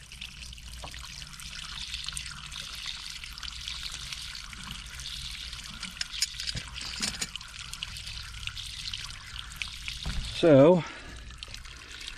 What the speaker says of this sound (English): now we got the water draining out of that one